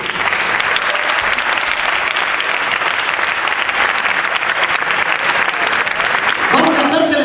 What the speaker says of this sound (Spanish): Voy a pediros un aplauso para el telépata